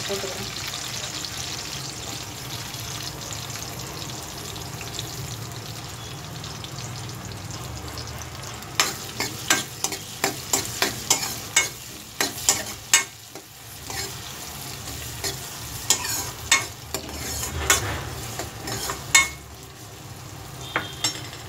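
Three chopped onions frying and stirred in a pan for mutton egg puttu: a steady sizzle throughout, with sharper scraping clicks of a spoon in the second half, and a brief voice speaking near the start.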